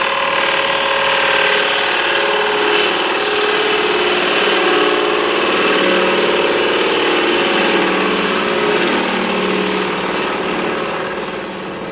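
A wood lathe spins a faceplate-mounted box blank while a bevel-riding gouge takes a cut, giving a loud continuous whirring hum with a steady scraping hiss that eases slightly near the end.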